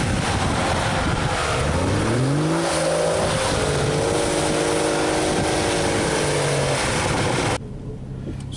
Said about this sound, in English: Bit of speed up in reverse, lift off the gas, chuck it in, into drive, away we go.